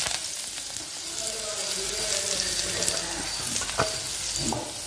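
Onions, green chillies and curry leaves fry in hot oil for a mutton biryani, giving a continuous dense crackling sizzle with scattered sharper pops.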